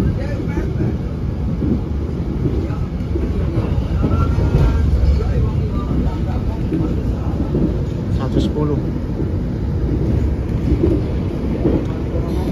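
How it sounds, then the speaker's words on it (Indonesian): A KA Pandalungan passenger train runs through Grati station at about 110 km/h, a loud, steady rumble and rattle heard from on board, with no break across the whole stretch. "melintas langsung stasiun Grati dengan kecepatan 110"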